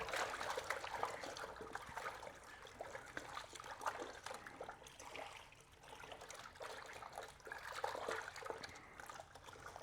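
Rinseless wash solution, Bilt Hamber Phat-Neut, pouring into a bucket of water, a steady splashing trickle that runs for about ten seconds with small surges, close by and with no talk.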